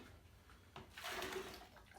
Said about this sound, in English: Tip a bit more water in, swirl it round.